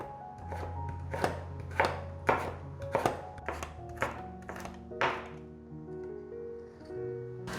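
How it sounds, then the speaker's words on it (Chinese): A knife chops carrots into fine shreds on a cutting board, with about ten crisp, evenly spaced strikes that slow and fade toward the end, close and fairly quiet. "切细丝。"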